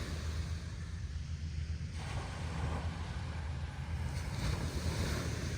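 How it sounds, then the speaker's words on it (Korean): Gentle ocean waves breaking on a shore in mild weather: a steady, moderately loud wash of surf mixed with wind noise, continuous throughout with no voices. "조금씩 파도가 치면서"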